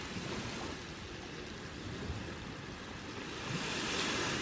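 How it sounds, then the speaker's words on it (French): Ocean waves washing onto a beach, a continuous broad surf roar that swells slightly toward the end, with no voices over it. "le bruit des vagues c'est hyper reposant."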